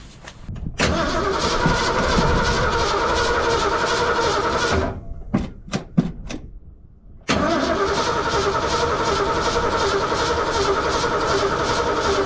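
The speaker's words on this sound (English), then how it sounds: "I'm gonna turn it over a few times and see if we can get some fuel, filling up that fuel filter" A Ford 302 V8 in a 1982 F-150 cranks over with a loud, rhythmic starter churn for several seconds, pauses with a few sharp clicks, then cranks steadily again at close range.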